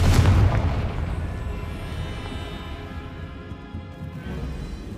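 Confringo blasting spell from Hogwarts Legacy bursting in a loud, close boom at the start, then a rumbling decay that lingers under faint game ambience.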